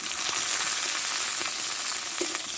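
Onion, ginger-garlic paste and chopped tomato frying in a pan, with a steady close hiss of sizzling oil and a few soft scrapes, no voices.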